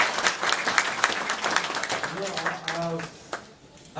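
Applause from the audience at a Vista Network launch event in Burbank, California, a few seconds of fairly loud clapping. A voice talks over it and the clapping thins out toward the end.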